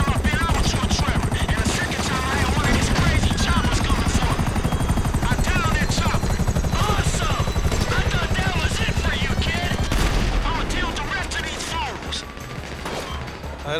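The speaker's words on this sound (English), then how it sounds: "they got some attack choppers on me" Attack helicopters roar overhead in the video game GTA V with loud, continuous rotor thumping. Crashes, impacts and gunfire break through the noise, and people talk under the din.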